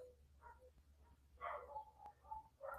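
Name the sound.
dog barking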